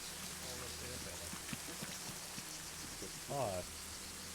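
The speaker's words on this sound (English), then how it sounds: "Hey, you guys hear that rain?" Steady rain hisses softly in a Vietnam War video game, a faint continuous patter heard far off beneath quiet voices and a short spoken exclamation.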